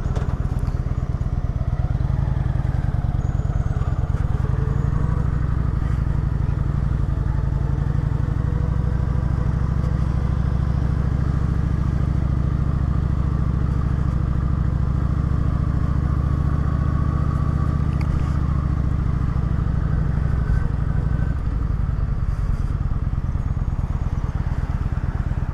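A motorcycle rumbles continuously with a steady low engine drone and road noise as it rides along with a puppy aboard, loud and constant throughout, with occasional light clatter.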